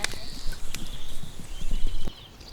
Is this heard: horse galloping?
yes